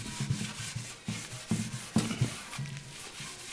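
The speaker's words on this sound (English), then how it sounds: "and just give it a good scrubbing" Rhythmic back-and-forth scrubbing of an end table with coarse steel wool soaked in paint thinner, a series of close rasping strokes at a quick, even pace with no talking.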